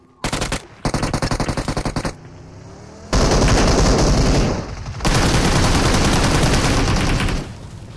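Automatic gunfire in the mobile battle royale game PUBG Mobile, with rapid bursts of loud shots in two short volleys, then longer dense sustained firing that drowns everything else out.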